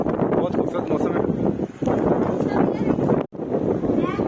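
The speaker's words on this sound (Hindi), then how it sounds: "जहलम में इस वक्त बारिश शुरू हो चुकी है और बारिश के साथ तेज़ हवा है।" Strong wind gusts and rain rush steadily during a storm in Jhelum, a dense broadband roar with brief drops in level, heard close to the microphone.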